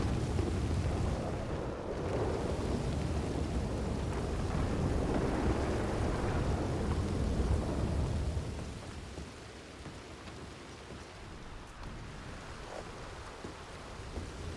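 Rain and distant thunder during a thunderstorm in Red Dead Redemption 2, a steady wash of rainfall with low rumbling that eases after several seconds into lighter, quieter rain.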